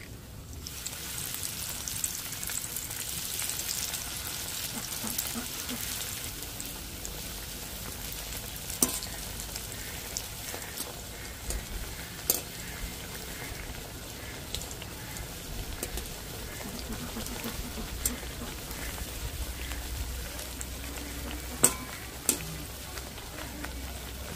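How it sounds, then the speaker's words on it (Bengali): Bread pieces deep-frying in hot oil, a steady close crackling sizzle that runs throughout with occasional sharp pops and light stirring clinks, and no talking. "বাকিগুলোকে একইভাবে ভেজে নিচ্ছি"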